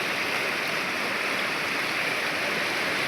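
A fast-flowing river rushes in a dense, continuous roar of water, loud and close, with no voices over it.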